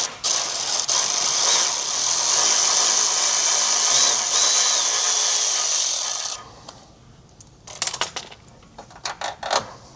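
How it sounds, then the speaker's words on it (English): A power tool with a 13mm socket spins off exhaust hanger nuts on a 2026 Mazda CX-50, a loud continuous whirring burst for about six seconds, followed by scattered clicks and rattles of metal parts. "With a 13mm socket, I'm going to remove these nuts that hold on our exhaust hangers."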